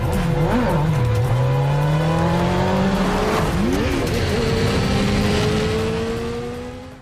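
A fuel-injected Yamaha R15 engine labours uphill at high altitude near Kargil and Leh, a loud, close drone whose pitch sags and swells with the strain, with wind rushing throughout.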